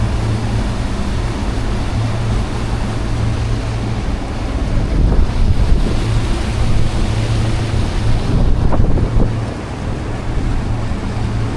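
Steady, loud wind buffeting and rushing water from a Scout 355 LXF center-console boat running fast through the Florida Keys, with a low engine drone underneath and gusts swelling midway, no talking.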